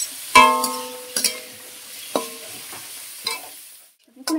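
Leftover rice is stir-fried in a pan, with a handful of sharp metallic spatula scrapes and clanks spaced about a second apart over a soft, fading sizzle.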